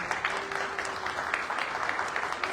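Steady audience applause at a church gathering, a continuous dense patter of clapping at moderate level with a faint sustained tone running underneath.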